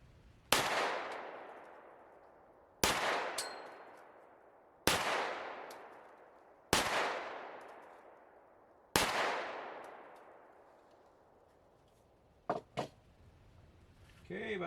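Five sharp pistol shots with lead-free bullets, fired from an FN with a 4-inch barrel and a P365 with a 3-inch barrel. Each loud crack rings off before the next, spaced about two seconds apart, followed by faint clicks.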